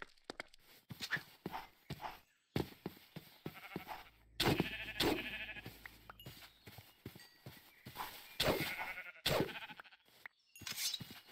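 Sheep bleat in the Minecraft RLCraft game amid busy, shifting clatter and clip-clop footsteps, the bleats coming in several short bursts over eleven seconds.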